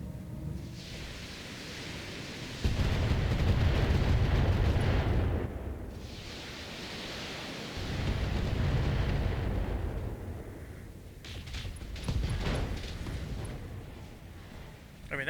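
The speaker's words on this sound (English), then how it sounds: "Now we got turret after turret shooting." Turret gunfire and explosions in the BattleTech mech game, long rumbling blasts that swell and fade in heavy waves, with sharper bursts of fire toward the end and little talk over them.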